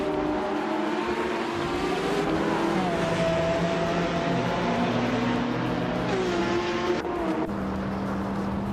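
Race cars in a video game roar continuously throughout, engine notes rising and falling as several cars jostle for position, loud and steady with no voices.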